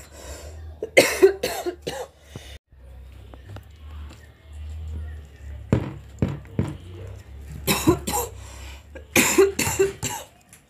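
A woman coughs several times while cutting into a freshly baked lasagna in a home kitchen. The coughs come in short bursts separated by quieter stretches, with brief speech-like sounds and a low background hum.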